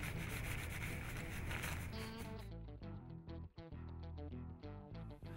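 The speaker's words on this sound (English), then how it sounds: "I'll continue to sand in coats with 400 grit until the grain is completely filled" Wooden gun stock of a Winchester Model 21 side-by-side shotgun being hand-sanded with 400 grit paper, a steady close rubbing that gives way to rhythmic back-and-forth strokes, with no voices.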